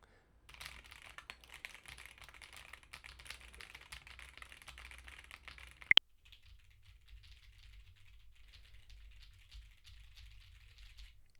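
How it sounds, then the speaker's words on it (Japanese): Rapid clicking keystrokes on a computer keyboard captured through an Audio-Technica AT2040 microphone, a busy clatter for several seconds, then after a sharp click the typing continues more faintly and sparsely. "ノイズで言うとこのパソコンの打鍵感もうるさいと思うので"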